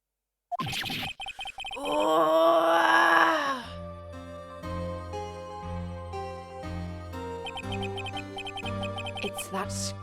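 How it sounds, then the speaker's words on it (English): A long, loud wailing scream from a cutscene in the video game Phoenix Wright: Ace Attorney, rising and then dropping into a dramatic piano-like musical sting with sustained chords. "It's that scream I've heard in the elevator 15 years ago."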